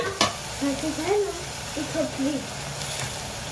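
Spices hit a pan of sizzling goat brain masala fry, a steady frying hiss with a sharp clink near the start, while someone talks over it.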